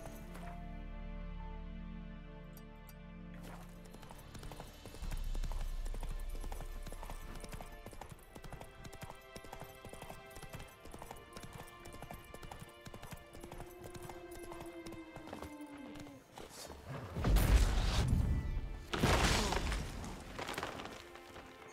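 Roach, Geralt's horse in The Witcher 3, galloping with a steady rapid clip-clop of hooves under game music, building to louder crashing bursts near the end.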